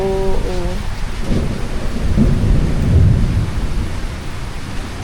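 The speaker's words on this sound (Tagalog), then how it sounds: "Grabe, ang lakas ng bagyo." Heavy storm lashing Magalawa Island, with rolling thunder, strong gusting wind and steady rain, a loud dense roar that builds toward the middle and stays close throughout.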